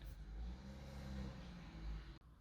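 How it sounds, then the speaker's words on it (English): A car engine started with a push-button ignition under a fighter-jet style cover: a quiet, steady low rumble with slight revving that cuts off abruptly near the end, with no talking. "So you lift this up and start your engine."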